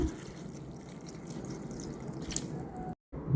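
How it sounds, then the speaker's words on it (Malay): Water is poured from a 500 ml supply into a blender holding boiled chilies, making a faint, steady trickle and splash that ends in a brief silence. "Sediakan 500 ml air, masukkan sedikit air ke dalamnya."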